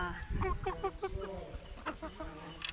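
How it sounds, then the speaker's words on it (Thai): Three young Thai roosters of the Mahanakorn line cluck in short rapid bursts, close, with someone talking faintly underneath. "ฝากติดตามไก่หนุ่มสายมหานครนะคะ มีจำนวน รุ่นนี้ 3 ตัว"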